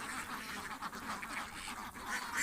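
Pekin ducks on a duck farm give faint, scattered quacks against a soft, continuous background murmur, with no voices.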